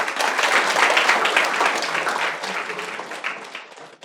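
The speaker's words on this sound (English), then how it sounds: "Let's give a round of applause to our alumni sir." An audience at a university keynote applauds an alumni speaker, a dense burst of clapping that starts full and gradually thins and fades over about four seconds.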